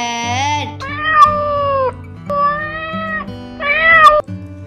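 A cartoon-style cat meows several times in a row, clear and close, with drawn-out, wavering cries over a steady musical backing in a children's alphabet song.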